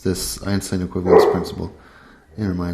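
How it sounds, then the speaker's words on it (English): A dog barks several times in quick bursts, some yips and whimpers mixed in, close by and partly under someone speaking. "my apologies for the dog barking"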